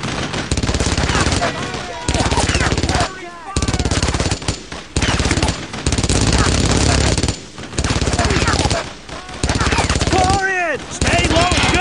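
Heavy gunfire in the WWII shooter Brothers in Arms, with long loud bursts of machine-gun and rifle fire broken by short pauses, and shouted voices mixed into the din.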